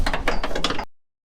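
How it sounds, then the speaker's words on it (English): A ratchet wrench turns out half-inch bolts on an International Scout II under rust repair, quick close clicking bursts over about a second before stopping abruptly. "A bunch of half-inch bolts in here. We're going to start ripping them out."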